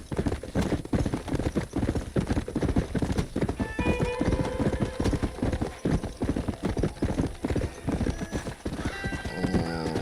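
Horse hooves clip-clopping in Red Dead Redemption on Xbox, a steady brisk trot of clear hoofbeats with a couple of whinnies and neighs partway through.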